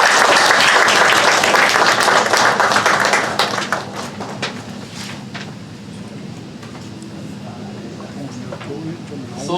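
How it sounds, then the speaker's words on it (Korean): Audience applause at the founding ceremony of a council of world theological universities. The clapping is loud and sustained at first, then drops to softer scattered claps and room murmur about halfway through, with some voices underneath. "격려와 축하와 축사의 박수를 우리에게"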